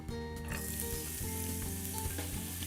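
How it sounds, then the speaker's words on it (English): Grated carrot sautéing in olive oil in a pan over medium-high heat, a close, even sizzle with a faint hum beneath, continuous and without speech. "in the oil I'm going to saute some vegetables"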